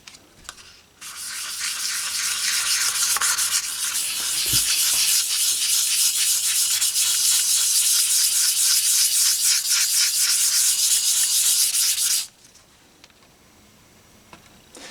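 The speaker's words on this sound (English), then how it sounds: "Some 320 grit free cut sandpaper." Steady back-and-forth rubbing of 320 grit free cut sandpaper on a guitar finish, a loud, close hiss running continuously for about eleven seconds before stopping.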